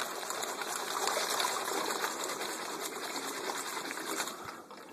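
A homemade vortex machine spins water into a steady whirlpool, giving a continuous rushing, trickling wash that holds at an even level throughout with no talk.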